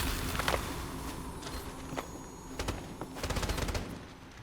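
Machine gun ultimate in the shooter video game Strinova, sustained rapid automatic fire with sharp bursts and a dense rattling volley near the end, moderately loud with footsteps underneath.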